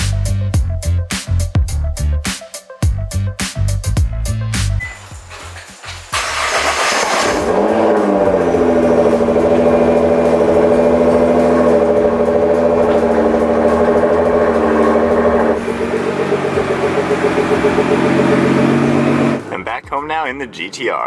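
Nissan GT-R engine running as the car is moved, a loud sustained engine drone with revs rising and settling, preceded by choppy intermittent sounds and ending abruptly.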